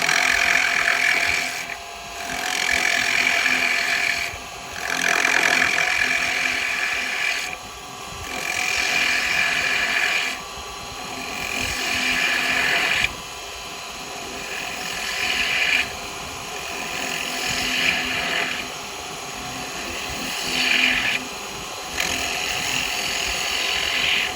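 A wood lathe spins while a chisel shapes a birdhouse roof, a continuous loud, gritty cutting roar that swells and dips in regular passes as the tool is pushed in and eased off.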